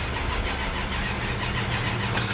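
A Plymouth Duster's engine catching and running after a jump start with cables: a loud, rough mid-pitched rumble close by, steady throughout with slight fluctuations, no talk over it.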